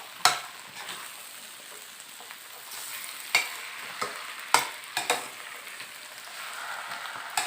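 Vegetables and marinated pork for pad see ew are stir-fried in a pan, with a steady sizzle under repeated scraping strokes of a spatula against the pan. The sound is close and carries no talk.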